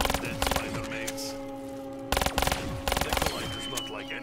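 RK5 pistol fired in Black Ops 3 Zombies on Zetsubou No Shima, several short bursts of quick sharp shots separated by pauses, over steady game background sounds.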